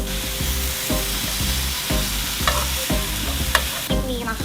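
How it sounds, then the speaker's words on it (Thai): Pork sizzles and crackles loudly on a hot grill pan, with rhythmic scraping and stirring sounds and occasional sharp pops. "ปิ้งกันดีกว่าครับ หมูกระทะ"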